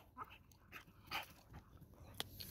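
A dog at a farm whimpers softly in short, repeated high whines and yips, faint and fairly close, with no talking over it.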